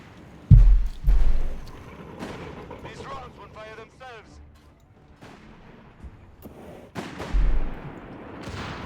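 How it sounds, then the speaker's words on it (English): An anti-tank rifle fires in a Company of Heroes 3 battle, with sharp booming shots and echoing blasts at intervals among other battlefield noise, while a commentator talks throughout. "Anti-tank rifle firing off."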